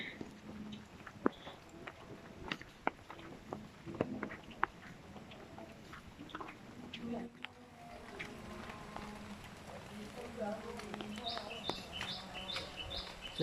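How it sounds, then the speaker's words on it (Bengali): Several birds call at different distances on a wet village morning after rain in Bagerhat, Bangladesh, with scattered chirps and a repeating high trill late on. The calls are faint over soft patter and footstep noise, with no clear talking. "বিভিন্ন ধরনের পাখির ডাক শোনা যাচ্ছে।"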